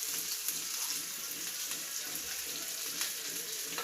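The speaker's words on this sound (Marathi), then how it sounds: "हे आता तेल गरम झाले, त्यामध्ये आपण कांदा टाकूया." Chopped onion sizzles in hot oil in a pan for a chicken samosa filling, producing a constant close hiss and crackle with small sputtering pops and no speech.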